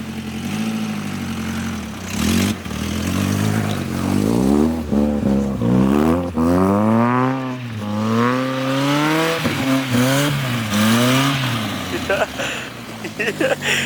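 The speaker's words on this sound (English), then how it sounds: "I couldn't even gain some speed. You're just spinning." A Mazda Miata on a frozen lake revs hard as its wheels spin on the ice. The engine note rises and falls in repeated surges, loud and close, with voices faintly underneath.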